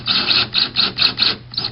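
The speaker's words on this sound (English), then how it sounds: "we're just going to screw that into the bottom hole" A screw is slowly driven into the wooden side panel of a closet tower, producing a close, regular series of scraping, grinding strokes with no talk.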